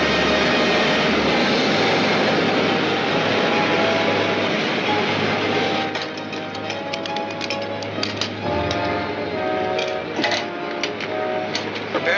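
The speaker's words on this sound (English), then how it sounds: "Veer to the right, Ted. Land beyond that next range of hills" A 1953 serial aircraft's engine drones loudly and steadily in flight before landing, a dense constant roar with a slight shift in tone partway through, no voices.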